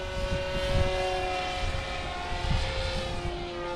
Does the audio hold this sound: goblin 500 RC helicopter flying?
yes